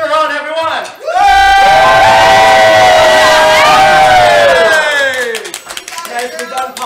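A game show studio audience cheers and whoops loudly as one sustained burst for several seconds, with a host's voice heard before and after the crowd noise.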